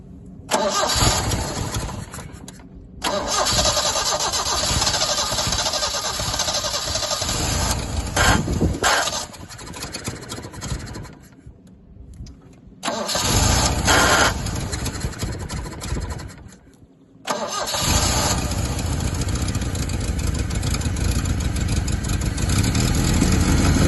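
A Sceptre Mk3 Estate car engine cranks and catches, running loudly up close, cutting out to near silence a few times before firing up again and settling into a steady run.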